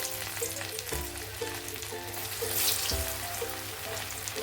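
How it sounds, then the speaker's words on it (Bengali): Fish pieces frying in hot oil hiss in a soft, continuous sizzle, fairly faint, with a low repeating hum and a few light clinks running underneath. "এখন আমি একটা একটা করে পিস ছেড়ে দেবো মাছের"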